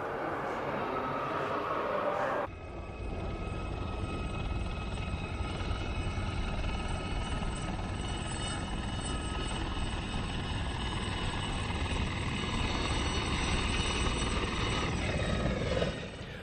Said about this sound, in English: what it looked like to see this aircraft arriving at Shawbury exactly 30 years ago